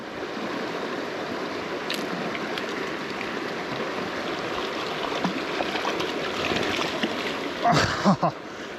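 Steady rushing of the North Tongue river in Wyoming flowing close by, a continuous broad wash of water with a few brief splashy knocks near the end.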